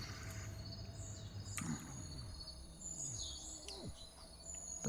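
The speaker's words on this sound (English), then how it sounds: "you can hear those birds chirping" Soft bird chirps and tweets scattered over a faint bed of crickets and low insect hum play as morning ambience in the management game Software Inc, quiet and distant throughout.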